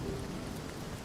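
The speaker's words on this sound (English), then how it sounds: "Oh, it's raining." Steady rain falls in a Divinity: Original Sin fantasy game scene, a dense, even hiss with low rumbling body, continuous and fairly close.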